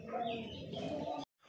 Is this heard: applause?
no